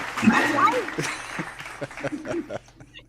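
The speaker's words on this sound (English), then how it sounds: "Give us a round of applause" A small group gives a brief, scattered round of applause mixed with chuckles and laughter, fairly close, while people keep talking through it.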